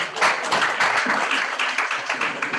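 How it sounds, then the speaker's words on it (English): An audience at a symposium claps for a departing colonel, a sustained close burst of many hands applauding with a little background murmur. "a round of applause to the Colonel as he leaves"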